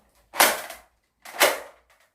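A toy Nerf blaster fires twice about a second apart, each a sharp close snap with a brief whooshing tail, loud against near silence.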